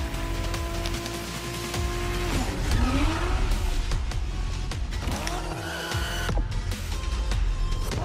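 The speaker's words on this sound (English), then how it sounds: "But what a car to start you out in, the bloody Toyota Supra" A Toyota Supra in the racing game The Crew Motorfest roars along at speed, its engine note rising and falling through gear changes, with tires squealing and skidding through corners in a close, steady run.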